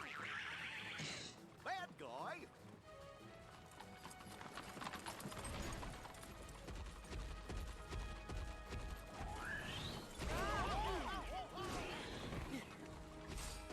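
Hooves clip-clop steadily beneath talking and game sound effects in Kingdom Hearts Dream Drop Distance, with a horse whinnying a couple of times and occasional crashes.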